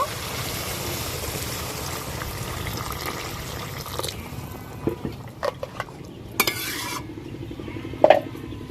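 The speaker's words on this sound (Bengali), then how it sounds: "সবকিছু ভালো করে ভেজে নিয়েছি, এবার জল দিয়ে দেব।" Water poured into a pan of spiced ridge gourd fried with prawns in a Bengali home kitchen, first a steady sizzle and stirring, then a brief gush and splash near the end, close and moderately loud with no talk.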